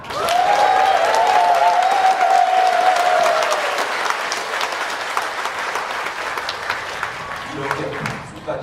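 A church congregation at a thanksgiving service for installing elders and deacons breaks into loud, sustained applause that gradually thins, with a voice sounding over the clapping early on.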